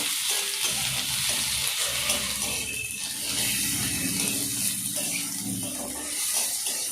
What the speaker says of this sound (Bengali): টমেটো দিয়ে নাড়াচাড়া করব